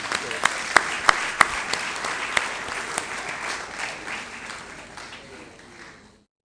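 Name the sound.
audience applause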